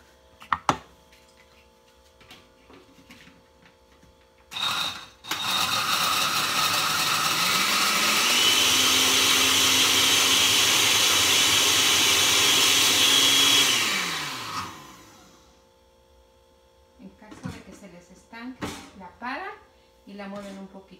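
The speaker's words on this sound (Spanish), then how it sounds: "en la licuadora. La van echando poco a poquito para que la muela bien." A blender grinding Maria biscuits for a cheesecake base runs loudly for about ten seconds with a grinding whir that shifts pitch as the biscuits break down, preceded and followed by clinks and handling.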